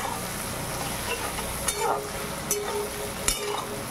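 Grated ginger and garlic sauté in a pan for chana masala, giving a steady close sizzle with a few sharp spoon-on-pan clinks and scraping stirs.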